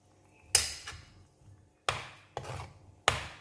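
A spoon mixes chicken and a bay leaf into tomato puree in a pot for Punjabi-style butter chicken. Four sharp scraping knocks are spaced irregularly, with faint clinks between them.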